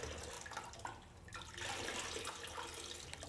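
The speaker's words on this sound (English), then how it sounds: "And finish by gently squeezing out the excess water." Water splashing and trickling as washed orthopedic brace pads with a hypoallergenic cotton lining are gently squeezed out, a close, continuous wet rush with a brief lull midway.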